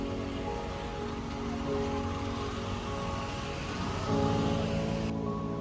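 Steady rain falls in coastal Karnataka, near Mangalore, drumming continuously on surfaces as a dense wash of drops, with a low rumble of traffic or an engine underneath and no voices.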